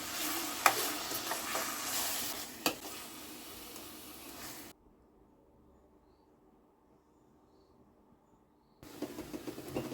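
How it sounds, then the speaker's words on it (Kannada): Egg frying on a low flame while being stirred in a pan for egg fried rice: soft sizzling with scraping stir clicks, then a stretch of near silence before the sizzling resumes. "ನೆಕ್ಸ್ಟ್ ಎಗ್ ಆ್ಯಡ್ ಮಾಡಿ ಲೋ ಫ್ಲೇಮಲ್ಲಿ ಇಟ್ಕೊಂಡು ಚೆನ್ನಾಗಿ ಮಿಕ್ಸ್ ಮಾಡಿ."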